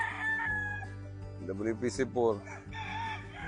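A gamefarm stag, a two-year-old rooster, crows once near the middle, a loud close cock-a-doodle-doo, with someone speaking briefly before and after.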